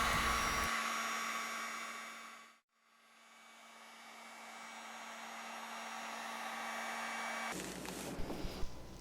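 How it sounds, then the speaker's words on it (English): A heat gun or hairdryer loosens adhesive under the cracked glass of a Kindle Fire with a steady, close airflow roar. The roar briefly dips to near silence, then runs on until a louder rustling burst at the end. "Turn your heat gun on low or the hairdryer on high and go around the edges of the glass to loosen up the adhesive under the glass."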